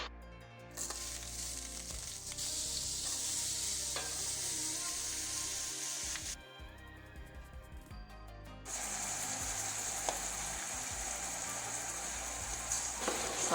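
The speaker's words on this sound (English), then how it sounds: "let's start with potato, with onion on a frying pan. Add some olive oil" Potato and onion fry steadily in olive oil and butter in a hot pan, a bright crackling hiss that briefly drops away and then returns at full strength, with occasional scraping stirs.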